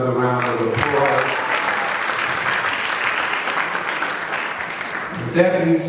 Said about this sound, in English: Give the good Reverend another round of applause.